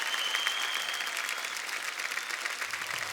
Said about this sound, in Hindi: सूर्य के लिए जोरदार तालियां।